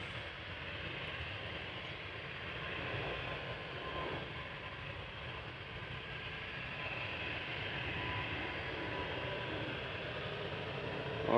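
A 13-year-old KLM airliner's engines spool up for departure at Amsterdam Schiphol Airport, giving a steady, fairly distant broadband roar that holds level throughout and rises slightly at the very end.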